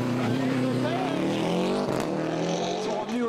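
Subaru rally car on a tarmac rally stage in the Rouergue, engine revving loudly and steadily as it passes near, with a commentator talking over it throughout.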